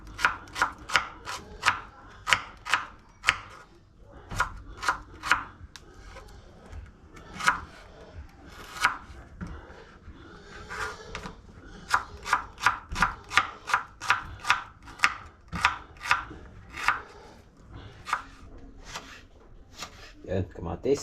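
Onion being sliced with a knife on a cutting board, crisp rhythmic chops in quick bursts with short pauses, close and clear, low background murmur but no distinct talk.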